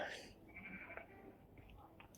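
A faint, wavering sheep bleat from Minecraft sounds, soft and somewhat distant, with a quieter second bleat following against low background noise.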